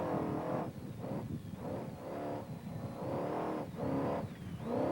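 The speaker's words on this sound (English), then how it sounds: "the 700 horsepower Mike Smith-built Truggy" A 700-horsepower off-road race truggy built by Mike Smith roars through repeated revving surges during the Baja 2000 desert race, loud and sustained with pulsing rises and dips in engine pitch.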